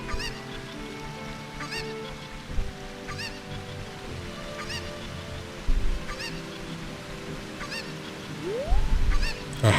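Cucco chickens cluck and squawk in a loop inside The Legend of Zelda: Ocarina of Time, with repeated bright calls spaced every second or so over steady game music, and a rising swoop near the end.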